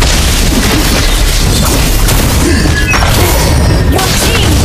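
A turret being destroyed in the Mobile Legends mobile game, heard as loud game booms and crashing impacts over a dense, continuous layer of battle effects and background music.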